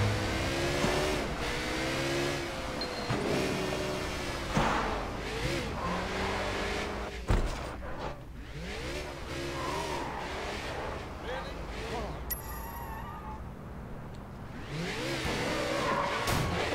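Motorbike engine in the Sleeping Dogs video game, a steady droning roar with rising and falling revs and a few sharp impacts, with someone talking over the game sound.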